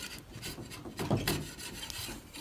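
A hand tool shaves across a knot in timber in a timber-frame workshop, giving short, close rasping strokes of scraping on wood, fairly quiet, with one stronger stroke in the middle.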